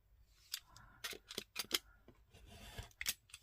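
Scissors snip repeatedly through craft material for a decorative embellishment, a series of crisp, close cuts in an uneven rhythm with short pauses, no talking.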